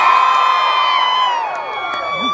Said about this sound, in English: I want everyone to like scream really loudly, like as loud as you can